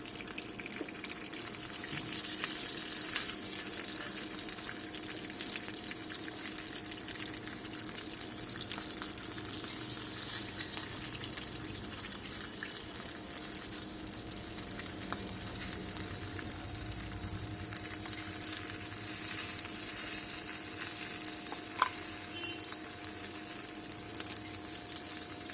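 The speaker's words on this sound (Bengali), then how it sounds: "পাল্টে ভালো করে মাছের মাথাগুলো ভেজে নেব" Hilsa fish heads fry in hot oil, a continuous, even sizzle like rushing water that holds steady throughout with only faint clicks now and then.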